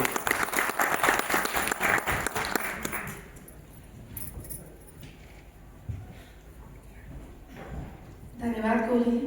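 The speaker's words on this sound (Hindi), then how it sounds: "जोरदार तालियां मैम के लिए।" Applause for a speaker at an International Women's Day ceremony in Pithoragarh, a dense crowd clapping loudly for about three seconds before fading to quiet room noise, with brief voices and a louder burst near the end.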